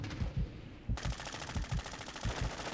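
Rapid automatic gunfire in the video game Warzone 2.0, bursts of sharp shots repeating in quick rhythm across the clip, fairly loud with no talk over it.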